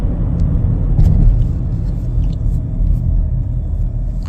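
A 2025 Chevrolet Equinox LT accelerating, heard as a steady, loud low engine and road rumble that holds even throughout with no voices.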